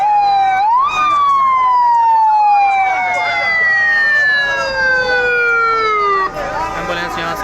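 An ambulance siren wails loudly and steadily, its tone sliding slowly downward as the vehicle pulls away, with crowd noise underneath and the siren cutting off near the end.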